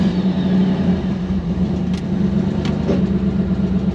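A twin-turbo Hemi engine held on a transbrake drones loud and steady at close range, with a constant heavy tone and no clear rise in revs.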